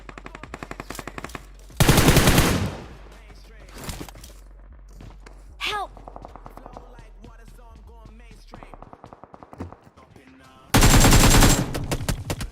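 Automatic gunfire from a mobile shooter game in winter mode bursts loudly in two sustained volleys with scattered single shots between, while someone talks over the game sounds.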